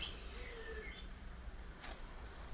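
Faint bird chirps and cooing from the real bird sounds of a realistic bird picture book, with a few thin whistling calls over a low background hiss.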